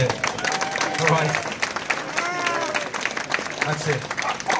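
Crowd at the start line of the 2015 Wolverhampton Marathon cheering and clapping, a steady wash of applause and whoops close by, with people talking over it.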